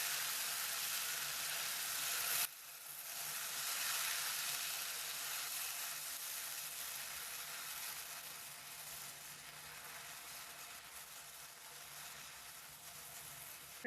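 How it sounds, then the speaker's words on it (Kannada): Coarsely ground tomato puree frying in a pan for okra gojju, a steady hissing sizzle that drops slightly after a brief pause and then continues evenly on its own. "ಇದು ಕೂಡ ಚೆನ್ನಾಗಿ ಹಸಿ ಸ್ಮೆಲ್ ಹೋಗೋವರೆಗೆ ಫ್ರೈ ಮಾಡ್ಕೊಳ್ಳೋಣ."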